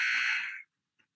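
A basketball end-of-quarter buzzer in a varsity game sounds as one loud, steady electronic blare lasting just over half a second, then cuts off sharply, with a faint brief blip following.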